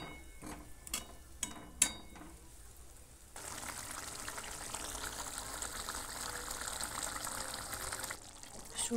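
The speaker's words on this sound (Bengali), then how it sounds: "এবার অল্প একটু জল দেবো।" A small splash of water pours into a pan of spiced baby potatoes, a steady gushing hiss that runs for several seconds after a few light clinks, close and fairly soft.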